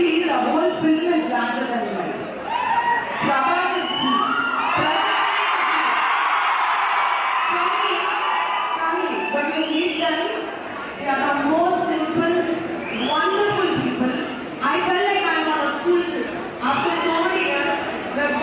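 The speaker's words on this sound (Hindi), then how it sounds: "श्रुति हसन जैसे ही प्रभास का नाम लेती हैं तो भाई साहब क्राउड" An audience at an actress's interview whoops and cheers loudly, the crowd roar rising and falling in waves under and around amplified talk, with shouts and screams breaking through near the end.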